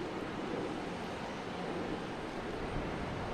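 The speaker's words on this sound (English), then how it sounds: "E-175 heading to Cincinnati." A Delta Embraer E-175 jet at Boston Logan Airport gives off a steady, distant engine roar, a faint broadband rumble that holds even throughout with no talking.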